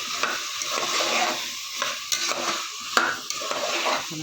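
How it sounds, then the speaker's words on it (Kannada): A spoon stirs bitter gourd curry in a pan, scraping and rattling against the metal in repeated strokes while the mixture sizzles softly underneath; close and fairly loud, no voices. "ಇವಾಗ ಇದು ನೀಟಾಗಿ ಮಿಕ್ಸ್ ಮಾಡ್ಕೋಬೇಕು"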